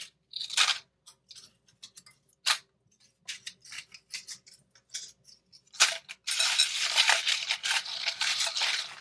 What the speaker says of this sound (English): I just want you to hear how crunchy and crispy these are